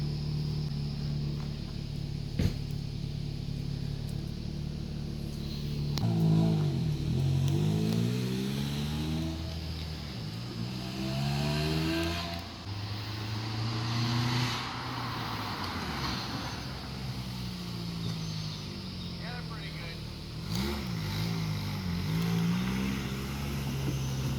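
A Nissan Spec V drives a short brake test after a brake refresh, its engine revving up and easing off in repeated pulls heard from inside the car, with road and wind noise underneath.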